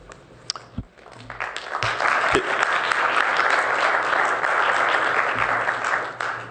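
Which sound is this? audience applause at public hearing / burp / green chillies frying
audience applause at public hearing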